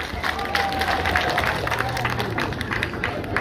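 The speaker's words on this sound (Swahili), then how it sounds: "makofi na vigeregere kwao." A crowd applauds a speech, with dense clapping and scattered cheering and high ululation lasting throughout, loud and close, with some voices mixed into the noise.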